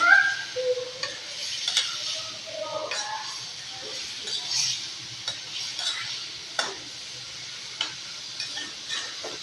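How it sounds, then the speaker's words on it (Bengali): Fish pieces are stirred in a cooking pan, producing faint, intermittent scrapes and clinks of a utensil over a soft sizzle, with a few brief sharp knocks spaced throughout. "মাছ দিয়ে দিলাম, কিছুক্ষণ নাড়াচাড়া করার পরে রান্না কমপ্লিট হবে।"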